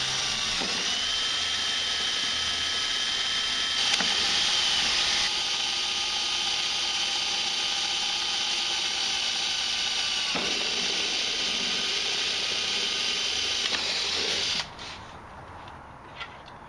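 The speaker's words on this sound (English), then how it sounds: "the drill I just used was the one for the bolt size that we need to tap to" A power drill drilling out a 1999-2004 Jeep Grand Cherokee 4.7 for a bolt hole to be tapped whines steadily at high pitch for around fourteen seconds, its tone wavering slightly, then cuts off abruptly into quiet.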